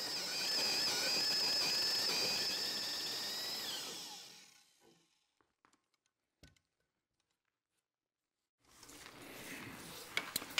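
A power drill fitted with a Lumberjack cutter shapes a taper onto the end of a wooden fence post, giving a loud, steady whining grind for about four seconds. The grind fades out, a few faint clicks follow, and then a quieter rumble returns.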